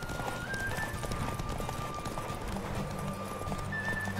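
Horse hooves clip-clopping at a steady gallop in The Witcher 3, the horse running low on stamina, a continuous rhythmic beat with a few neigh-like tones over game ambience.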